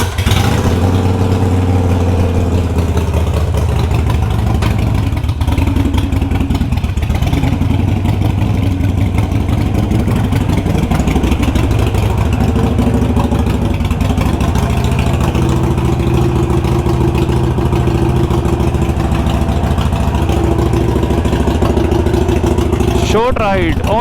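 A motorcycle engine idles and then pulls away on a short ride, with a loud continuous rumble and rising revs that carry through the whole stretch while the rider talks over it.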